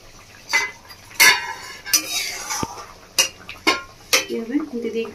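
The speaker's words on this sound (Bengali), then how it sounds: "এবার আমি মাছগুলো দিয়ে দেবো ঝোলের মধ্যে।" Bhola fish pieces go into a boiling mustard curry in a pan with the heat just switched off: a run of sharp metallic clinks and scrapes of a utensil against the pan, with soft splashing and faint voice in the background.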